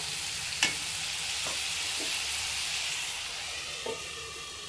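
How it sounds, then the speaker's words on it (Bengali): Potatoes cook in a pan for cauliflower-potato singara filling, with a low, steady sizzle and hiss and a few faint clinks, close and even, no voices. "এবার আমি 5 মিনিটের জন্য ঢাকনা দিয়ে রেখে দেব, আলুটা যাতে সিদ্ধ হয়ে যায়"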